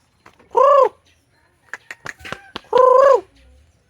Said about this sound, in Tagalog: Ito yung gansa.